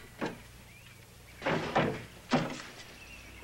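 A top drawer slides open with a few short wooden thunks and scrapes, close and moderately loud, three distinct bursts spaced across a quiet room with no talking.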